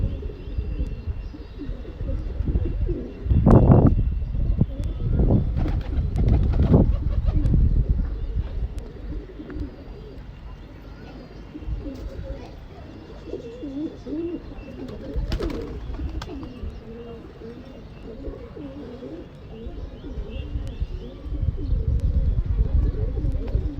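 Pigeons coo close by in a bird loft, with low throaty repeated coos and some louder bursts, while wing flutters, scattered chirps and rustling movement sound throughout.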